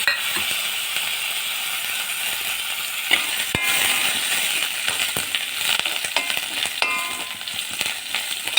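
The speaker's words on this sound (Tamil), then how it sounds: "வெங்காயம் வதங்கிட்டு இருக்கும்போது கருவேப்பிலையை போட்டுங்க" Onions and curry leaves fry in a pan, a bright continuous sizzle with scattered clicks and a couple of sharp knocks of a spoon against metal, close and without speech.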